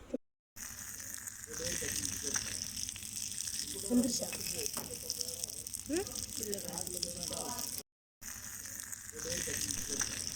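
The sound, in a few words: rock fish frying in pan on low flame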